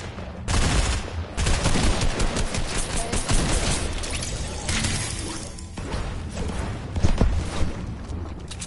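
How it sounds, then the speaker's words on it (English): Rapid gunfire in the Fortnite video game, dense bursts of shots and crashing impacts crackling loudly and almost continuously, with brief pauses between volleys. "Oh, this is you shooting."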